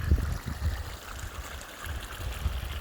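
Water runs steadily through a cool creek pool fed by warm runoff, a soft continuous trickle and gurgle heard close by and alone, with a few low bumps near the start.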